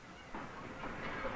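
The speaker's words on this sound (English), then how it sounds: "As they depart on a two-day train ride to the city of Chengdu" Passenger train travelling toward Chengdu, China, a soft continuous rolling rumble with faint hiss and clatter, distant and low in level.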